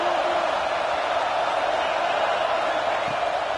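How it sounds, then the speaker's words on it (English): A college football stadium crowd at a USC versus Iowa game roars as a dense, steady wash of noise, loud and unbroken throughout, with no distinct voices standing out. "This crowd trying to make life miserable for this offense."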